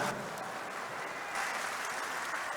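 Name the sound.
crowd applauding at a Democratic Party rally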